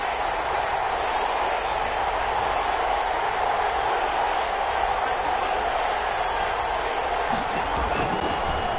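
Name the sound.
stadium crowd cheering in a football video game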